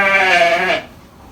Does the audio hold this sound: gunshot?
no